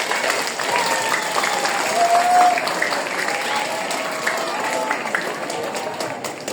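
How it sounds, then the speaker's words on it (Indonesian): A school audience claps at an OSIS and MPK student council installation at a junior high, celebrating a first-place volleyball win. The applause is steady and dense throughout, with voices mixed in. "Boleh tepuk tangan?"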